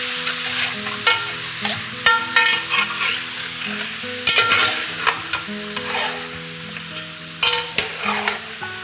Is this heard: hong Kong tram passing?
no